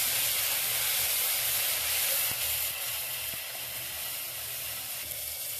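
A ground paste of dried red chilli, coriander and cumin hits hot oil in a pan for a fish curry, giving a loud, continuous sizzle and hiss that settles to a steady bubbling fry.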